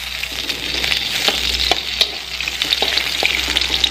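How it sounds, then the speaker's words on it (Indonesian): Garlic and ginger stir-fry in about two tablespoons of oil with a continuous bright sizzle, punctuated by sharp ticks and scrapes of a spatula, close and fairly loud with no talk. "Terus habis itu aku mau tumis ini dulu, bawang putih dan juga jahe."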